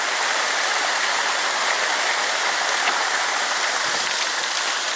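A waterfall and mountain stream on the Yassy (Aksay) river give a loud, close, unbroken rushing roar of falling and flowing water with no voices.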